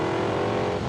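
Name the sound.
race cars: Porsche 928S, Ferrari GTO, Lamborghini Countach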